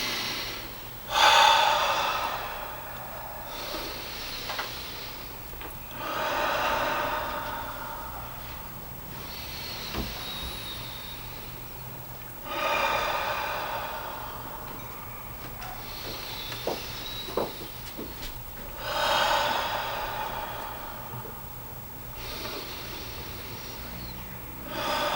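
Slow guided breathing, drawn in through the nose and released out through the mouth, repeats as about five long airy inhale-exhale cycles, close and clear in a quiet room with no speech.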